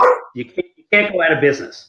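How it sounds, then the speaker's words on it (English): A dog barks in an office, a few sharp barks and yips coming in quick bursts, close and loud, mixed in with a person talking. "I apologize for the barking in my office."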